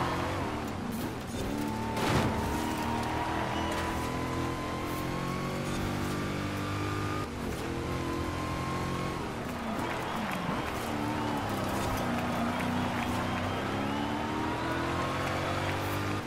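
Racing car in Forza Horizon 5 labouring through sand, a steady loud engine drone with rising and falling revs under accelerations, continuous and close over background game noise.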